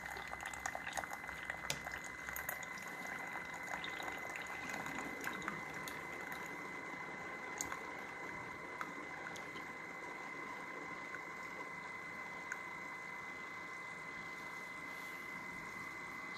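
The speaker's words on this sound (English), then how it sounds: "you can kind of hear the pump still running" The pump of an SBOLY single serve coffee maker runs as a continuous, faint mechanical hum with bubbling and gurgling from the brewing water, close and steady throughout, with no talking.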